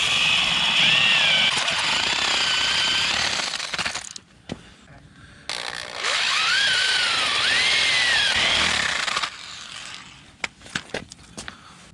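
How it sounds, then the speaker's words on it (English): Power drill boring a vertical 1-inch hole through the center of a 6-inch piece of wood for a rocket stove, a loud sustained whine with rising and falling pitch in two long bursts separated by a short pause. "take your 6-inch piece of wood and a 1-inch drill bit and drill a hole"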